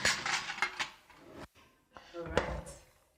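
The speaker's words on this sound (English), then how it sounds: "Let me get a spoon." A drawer opens in a kitchen and cutlery and dishes clink as a spoon is fetched, a few close rattles and knocks with a person speaking around them.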